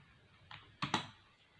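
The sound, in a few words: typing on a computer keyboard in MS Word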